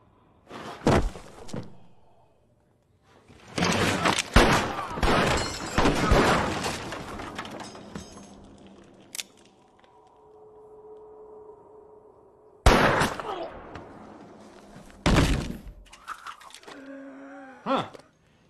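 Gunshots striking ironwork in a Western saloon cantina scene: several loud, sharp bursts of metallic impact and clatter, separated by quieter stretches with a faint tonal drone.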